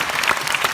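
Audience clapping at a live talk concert in Japan, a steady dense wash of applause filling the short moment without any voices.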